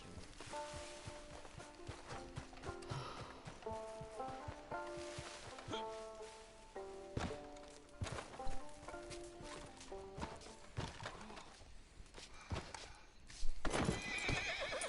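A horse in Red Dead Redemption 2 Online whinnies repeatedly over steady clip-clopping hooves, with a loud burst near the end and faint talk now and then.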